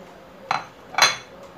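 Seasonings being mixed into breadcrumbs in a dish for KFC-style fried chicken, two distinct clinking scrapes of a utensil against the bowl, close and sharp, with a fainter tap at the end.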